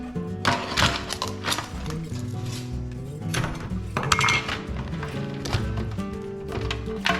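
Ice clinks and rattles as freshly cooked mud crabs, steamed until orange, are chilled down, a busy run of bright metallic clatter with steady background music throughout.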